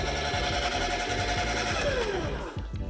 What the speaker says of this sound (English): You're gonna hear metal on metal grinding,